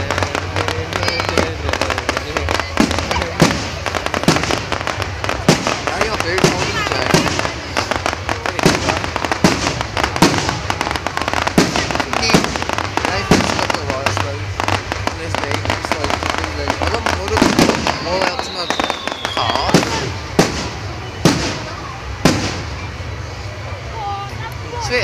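Fireworks burst continuously at an outdoor bonfire night display, a dense run of loud booms and crackles with crowd noise and people talking throughout.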